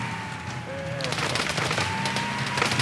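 Bursts of automatic gunfire in ARMA 3 crackle around a Puma helicopter in flight, sharp repeated shots over a steady rotor and engine drone, with a faint tonal whine and voices partly under the noise.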